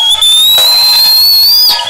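A loud, piercing whistle blows continuously for about two seconds during a lively church service, holding one steady high tone with a brief dip near the start and a slight break near the end.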